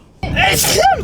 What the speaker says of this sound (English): Yo, all of them sneezing there.